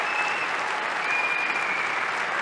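A crowd applauds in a steady, dense wash of clapping that holds evenly from start to finish without any pause.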